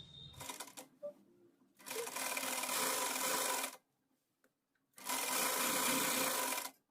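Sewing machine running in three bursts as it stitches elastic onto a frock being made, steady loud whirring runs separated by short pauses, no talking.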